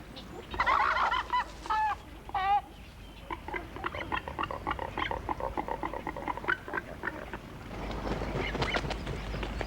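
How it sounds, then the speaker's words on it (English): A nesting colony of white herons and little shags at a lagoon, with a busy mix of harsh croaks, squawks and rapid clucking calls overlapping close by, a narrator's voice at times mixed in. "The white herons share their chosen nesting site with little shags."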